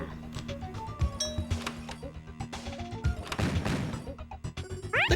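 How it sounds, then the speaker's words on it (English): A Bob-omb explodes in the CD-i video game Hotel Mario. A crashing burst rises midway through the clip among tonal game music and other brief sound effects. "That explosion effect wasn't terrible."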